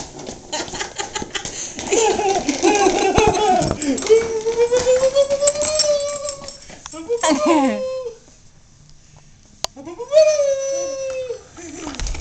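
A dog whimpers and yelps while someone chases him indoors, high thin whines rising and falling close to the microphone, mixed with laughter and excited voices talking throughout.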